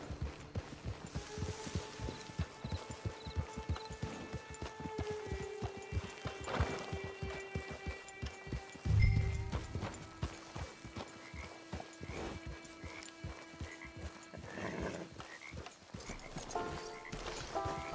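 Horse hooves clip-clop steadily in Red Dead Redemption 2, a continuous walking rhythm of close, moderately loud steps with a brief whinny and a low musical drone underneath, no speech.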